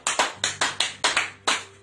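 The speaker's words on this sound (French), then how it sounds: "Applaudissez le Seigneur" A church congregation applauds in quick, rhythmic unison claps, about eight sharp, close hand claps in under two seconds with no voices.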